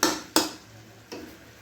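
A spoon scrapes and clatters in a pan of methi chicken, with two sharp metallic knocks close together and a third softer one a moment later, alone without talk.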